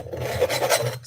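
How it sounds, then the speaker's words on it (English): Close, steady scratching of a tool across an artwork's surface, one continuous rasping pass of about a second, fairly loud and alone. "Doesn't hurt to put little scratches in there"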